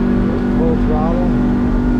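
A Yamaha F70 outboard motor on a 16 ft Arima boat runs at full throttle during a water test, with a loud steady high-revving engine drone and a voice speaking over it.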